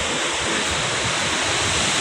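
A famous hometown waterfall roars as a steady, loud, unbroken rush of water, close by and alone.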